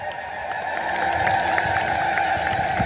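Rhythmic clapping from a crowd at an Ethiopian Orthodox church celebration, an even beat of hand claps over a sustained, high, trilling crowd tone.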